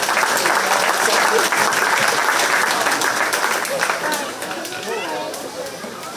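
A crowd at a county fair 4-H swine show gives the exhibitors of the champion and reserve champion gilts a loud, steady round of applause that begins to taper slightly near the end.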